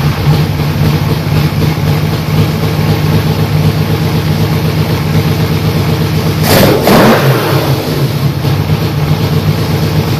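Carburetor-cleaned Yamaha V-Max motorcycle engine runs loud and close with a steady rumbling idle, broken by a sharp throttle blip and rev partway through before dropping back.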